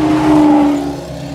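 Porsche 991.1 Turbo supercar in Cape Town, a loud, close engine drone with a steady low tone that swells briefly and then eases, with no voices.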